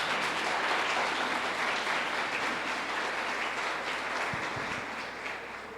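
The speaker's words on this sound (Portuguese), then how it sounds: "Aplauda ao Senhor." Church congregation applauding together, dense sustained clapping at steady volume that tapers slightly toward the end, with no talk over it.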